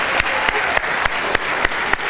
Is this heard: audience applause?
yes